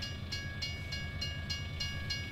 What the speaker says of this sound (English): Oh, looks like there's a train coming.